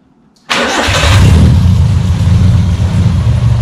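A 750 trials car engine cranks and fires abruptly into a loud, steady idle with a deep rumble. It runs close by without voices.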